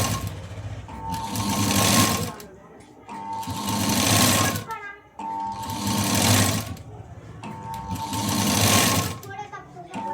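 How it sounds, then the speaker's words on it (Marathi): A sewing machine runs in four long bursts, stitching a piping strip along a neckline. Its loud whirring rises and falls with short pauses between runs. "यावरती पट्टी ठेवायची आणि फक्त शिलाई देत यायची"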